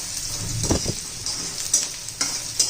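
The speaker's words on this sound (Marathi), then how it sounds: "कांदा परतून घ्यायचा आपल्याला जास्त असा तांबूस वगैरे नाही करायचा" Chopped onion sautéing in a pan for spicy misal, with a steady broad sizzle and a few louder stirring scrapes and clatters throughout, no voices.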